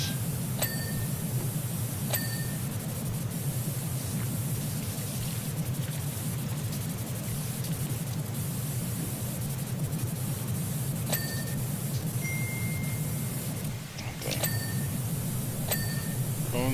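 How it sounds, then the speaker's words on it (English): Phone notification chimes ring out in short bright pings, several pairs spaced through the stretch, over a steady loud hiss of pressure washing in Powerwash Simulator 2. "Phone's going off like crazy right now."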